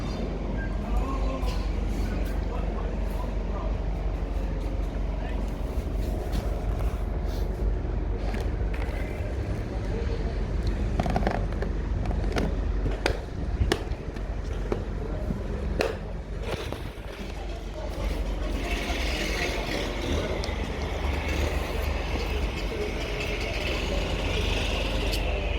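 A long freight train of 39 wagons rolls past at Kensington Olympia as a steady, close, broadband rumble with scattered clanks and rattles, holding for the whole stretch, with faint voices now and then.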